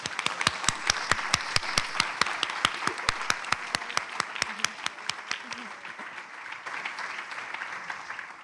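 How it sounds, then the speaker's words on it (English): An audience at a science slam event bursts into loud, sustained clapping and applause that gradually thins and fades toward the end. "let's give a round of applause to our 8 slammers"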